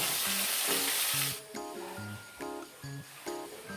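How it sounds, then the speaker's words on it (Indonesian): Peeled potatoes fry in hot oil in a home kitchen, a steady close sizzle that cuts off partway through, followed by soft tonal music notes with quieter frying beneath. "Setelah selesai kupas-kupas langsung digoreng"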